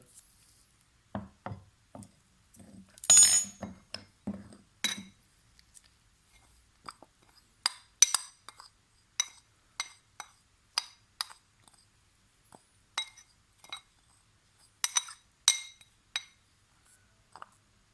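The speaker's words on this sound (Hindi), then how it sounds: "अब इन सब चीज़ों को अच्छी तरह मिक्स कर लें" Fenugreek powder and other home remedy ingredients are mixed in a bowl, giving a series of light clinks and scraping taps in an irregular rhythm, close and fairly quiet, with no talk.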